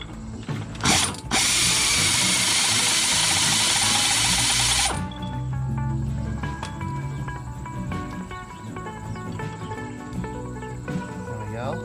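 Close, loud ratchet clicking as a socket wrench loosens the inner spindle nut on a Dana 60 front axle, in rapid bursts with a sustained broadband whir near the start, then steadier clicking with metallic tool clatter.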